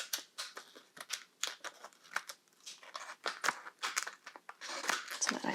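Thin candle wrap material being cut and torn by hand in a crafting setting, giving a run of dry crinkling, ripping and snipping bursts close up, with a person talking over parts of it.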